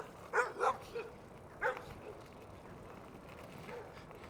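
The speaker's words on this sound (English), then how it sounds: "The little Chihuahua couldn't even hear because of the other dog was so loud." A dog barks in a quick cluster of loud yaps, then gives one more bark and a faint yip at moderate distance over steady outdoor background noise.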